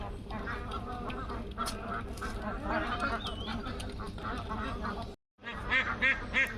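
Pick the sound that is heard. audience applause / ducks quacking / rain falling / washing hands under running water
ducks quacking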